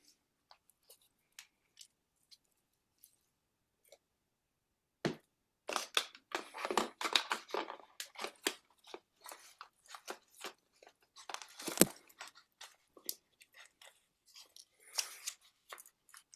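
Moss for a bonsai pot is flicked and handled near a keyboard indoors, giving sparse soft ticks at first, then a dense run of close, crisp crackling, rustling and crunching bursts.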